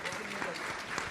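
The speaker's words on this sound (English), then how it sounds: "Let's give our panelists a big round of applause" Brief burst of audience applause for panelists at a talk, dense and steady clapping from a crowd.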